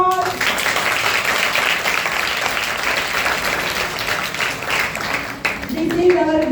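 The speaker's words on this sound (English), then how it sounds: "we are conveying our sincere thanks by giving a big round of applause" Steady applause from students at a college event, dense and continuous for several seconds before tapering off, with faint voices coming through near the end.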